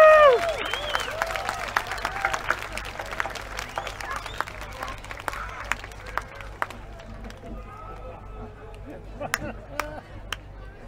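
Audience applause at an outdoor music festival greeting a trio; a voice speaks loudly at the start, then scattered clapping with sharp individual claps continues at moderate level and thins toward the end.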